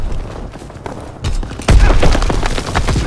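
Artillery battery firing in Call of Duty: WWII, set in a 1944 match. A heavy boom lands partway through, followed by rumbling and crackling blasts that stay loud to the end.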